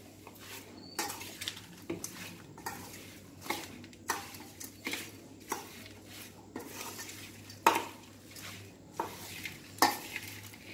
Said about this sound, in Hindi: हूँ असी सारे मसाले जिहड़े आ चंगी तरह फिर मिला लेने आ।